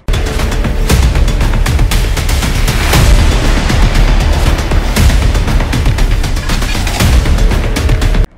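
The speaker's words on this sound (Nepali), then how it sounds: "यसका लागि शक्तिशाली विस्फोटक पदार्थको विस्फोट गराइन्छ" Explosive blasting for diversion tunnel construction at a project site thunders as loud, repeated booms over a continuous heavy rumble.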